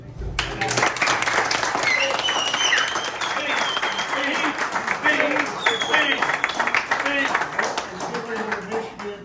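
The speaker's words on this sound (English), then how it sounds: "I just want a round of applause for" Sustained applause and clapping from a senior softball league gathering, honoring a teammate, with cheering voices and talk mixed through the steady ovation for about nine seconds.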